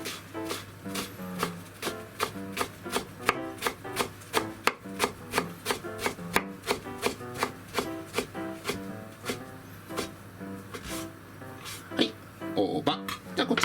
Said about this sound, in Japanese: はい、でこちら千切り